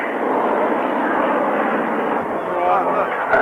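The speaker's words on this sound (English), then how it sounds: "you can hear somebody sneaking up on us, pair of piston engine fighters" A pair of piston-engine fighter aircraft at the Cranfield airshow, 1998, roar steadily and loudly throughout, a broad continuous drone of planes passing fairly close, with no speech.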